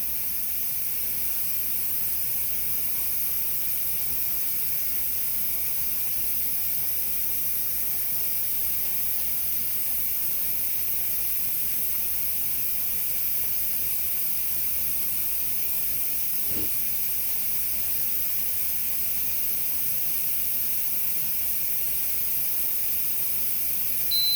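Steady hiss of steam escaping from a Nesco digital pressure canner, a constant broadband rush that holds evenly throughout with no voices.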